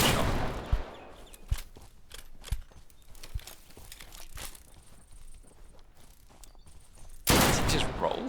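Gunfire in the video game Deadside: scattered sharp single shots spaced a second or so apart over quiet background ambience, with a louder burst near the end.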